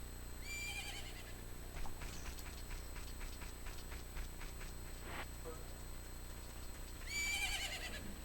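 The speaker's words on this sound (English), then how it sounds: "Isn't that your horse?" Epona the horse whinnies at Romani Ranch in The Legend of Zelda: Majora's Mask, a bright game neigh near the start and again near the end over a steady ambient music bed.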